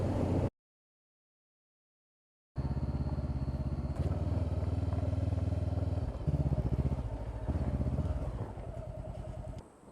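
A Honda CB500X motorcycle rides out toward a dirt road, its engine droning loud and close after a brief gap of silence, with the pitch shifting as it accelerates and changes gear.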